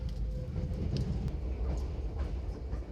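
A passenger train on the Gyeongjeon line rumbles along, with a deep, steady rolling noise and faint clatter, heard from inside or close by and loud throughout.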